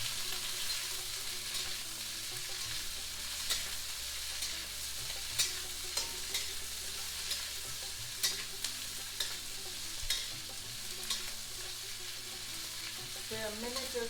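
Onions sweat in a pan for a cottage cheese kofta curry, with a quiet, continuous sizzle and occasional light taps of a utensil, all faint and without speech.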